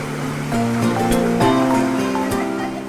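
River water flowing steadily along a riverside in Bogor, a continuous rushing wash with a few brighter splashy accents, fairly close and loud, with no talk over it.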